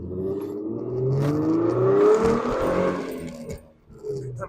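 A Ford Mustang revs hard in track mode and slides into a drift, the engine note climbing and swelling loud and close for a few seconds, with faint voices of people in the car underneath.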